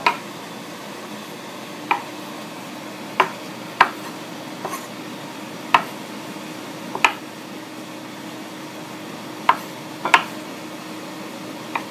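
Sharp, separate knife strikes on a cutting board slicing shiitake mushrooms, about ten crisp chops spaced unevenly a second or so apart, close and clear over a quiet room hum.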